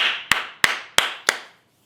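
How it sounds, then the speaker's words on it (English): Four sharp hand claps in a slow, even rhythm, close and clear, each with a short fading tail, then silence. "I've got a clap for every single one of our defenders."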